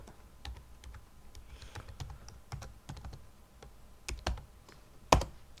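Computer keyboard keys clack in irregular bursts during work on a parking game, with quiet taps building to a few sharper, louder strikes near the end, as if pressing shortcut keys.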